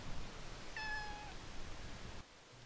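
Fozzy Bear the barn cat, stuck up high, gives one clear, drawn-out meow in a quiet space, faint room noise around it and no voices.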